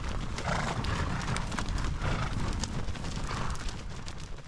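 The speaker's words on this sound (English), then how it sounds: "The horse drive is underway." A herd of horses gallops on a spring ranch horse drive at Sprucedale Ranch, their hoofbeats blending into a continuous dense rumble with scattered sharper clops and a faint whinny, fairly close and steady throughout.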